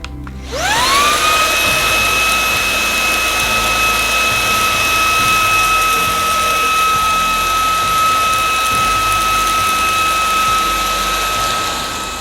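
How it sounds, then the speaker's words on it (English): A Shark Wandvac cordless vacuum cleaning carpet whines up to speed and then runs loud and steady with a high tonal whine throughout, with no speech. "We now have the Wandvac docked and we're going to see how we get at actually just cleaning the carpet here"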